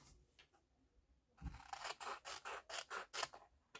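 Scissors cut out a small paper card in a quiet room, with a few faint snips followed by a quick series of about eight crisp, close cuts.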